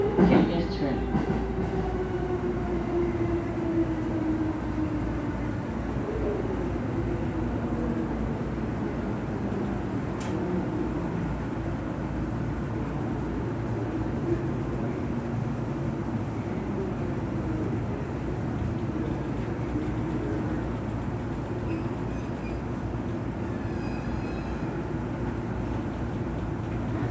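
Inside the KuHa E217-23 car of a JR E217 series train running on a special rapid service to Soga, a low rumbling drone holds steady with faint rail clatter and a brief high squeal, while quiet voices murmur now and then.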